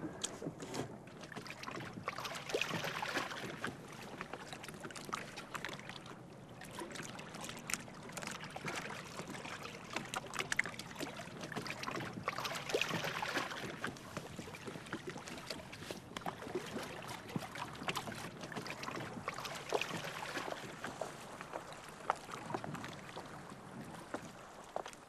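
A boat with an outboard motor moves across the water, with a continuous washing, churning sound of water and wind and no clear talk.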